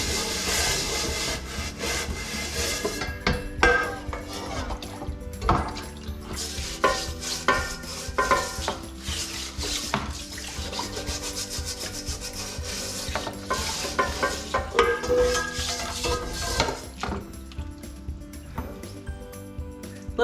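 Scrubbing baked-on grease off a metal pan that looks like cast iron: steady, close rasping rubs in uneven strokes, continuing alone with no talk.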